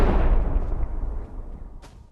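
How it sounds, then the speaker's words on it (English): A small firework goes off with a booming burst that rumbles and decays over about a second, near and loud, followed by a faint crackle. "small explosion."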